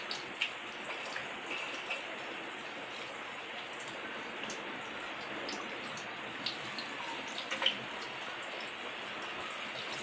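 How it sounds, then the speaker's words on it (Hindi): Dal kachori deep-frying in hot ghee, giving a steady, even sizzle and crackle with a few small pops rising above it, close by and with no voices. "सुनहरी करारा होने तक हम इसे तलेंगे।"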